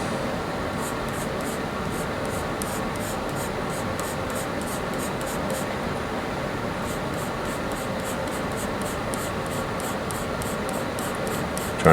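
A pencil on paper sketches strands of a woman's hair with short, repeated strokes that follow the hair's flow, in quiet, close, steady scratching bursts and occasional pauses.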